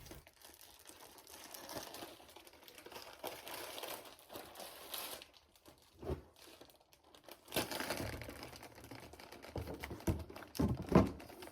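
A crinkly nacho chip bag being squeezed to push the air out and then closed, quiet close-up crackling and rustling in irregular bursts, louder crinkles near the end.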